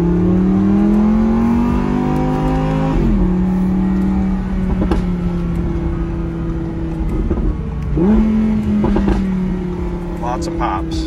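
A nearby Audi R8 V10 Plus engine drones and revs in rising and falling waves, with sharp crackling pops from the exhaust as the revs drop.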